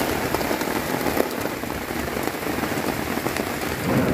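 Steady rain pouring onto surfaces outdoors in the Mekong Delta countryside, a dense continuous hiss without voices.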